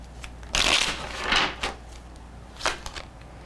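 Tarot cards being shuffled by hand, several quick riffling and slapping bursts in an uneven rhythm, close and moderately loud, with brief pauses between them.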